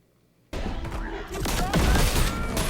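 Rapid plasma rifle fire from two weapons held at once in a Halo battle, loud bursty blasts and booms layered over excited voices and game combat noise.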